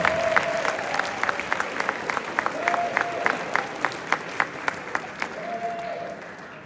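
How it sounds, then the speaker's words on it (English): Applause from the crowd at a high school football banquet, a steady wash of clapping with sharper individual claps standing out, gradually thinning toward the end. "Let's give one more big round of applause for the academic all-state team."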